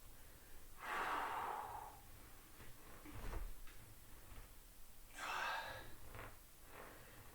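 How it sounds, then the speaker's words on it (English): Deliberately exaggerated heavy breathing during a core exercise: three loud, drawn-out breaths come at a slow, even pace close to the microphone, with quieter breathy sounds between them and no speech. "Sometimes I like to over-exaggerate my breathing just so that I remember to breathe."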